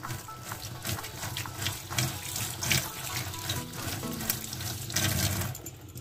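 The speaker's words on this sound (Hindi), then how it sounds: "उसके ऊपर थोड़ा सा ठंडा पानी डालेंगे" Cold water runs steadily from a tap onto boiled cauliflower, a continuous splashing and gushing flow close by.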